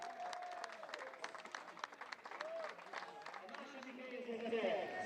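Racing mechanics at a Hungaroring GT Open podium cheer and applaud with steady crowd clapping, heard at moderate distance, while voices carry over the top.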